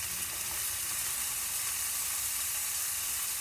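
Butter sizzling in a hot pan gives a continuous, even, close hiss and crackle with no pauses and no talking.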